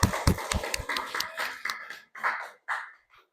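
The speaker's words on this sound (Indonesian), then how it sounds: "beri tepuk tangan untuk kelompok Aster" In a classroom, students clap for a presenting group: a short burst of sharp, uneven hand claps that quickly thins into a few scattered claps and faint voices before stopping.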